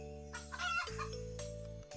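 Synthetic chicken clucks and a short crow-like call ring out over steady electronic game music, with bright chiming tones on top, in the card game Terracards.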